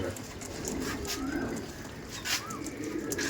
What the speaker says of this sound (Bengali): আমরা এই পায়রা দেখতে চাই দেবদার মাধ্যম দিয়ে।